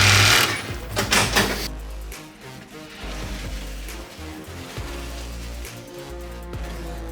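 A tyre balancing machine spins a Ducati V4 Panigale superbike wheel, giving a steady mechanical whir and hum that runs continuously at moderate loudness, with a brief louder burst at the start.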